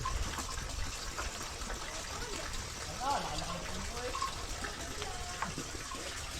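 Liquor trickles and gushes steadily out of a still under faint background noise, with a brief murmur of voices partway through.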